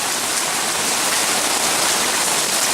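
Floodwater left by Hurricane Harvey flows and drains off a parking lot toward a street, a steady, dense rushing wash like a stream or heavy runoff, continuous and fairly loud with no talking.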